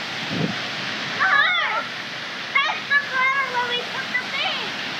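A waterfall at Crystal Cascades, a tropical Australian swimming spot, rushes steadily as broadband background noise, while voices talk and exclaim over it in the foreground.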